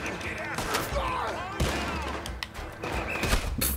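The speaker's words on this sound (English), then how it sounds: "people are shooting at me" Gunfire in Red Dead Redemption 2 crackles through a chaotic fight: scattered shots and thuds with sharp broadband bursts near 1.6 and 3.3 seconds, mixed with game noise and some voice-like sounds.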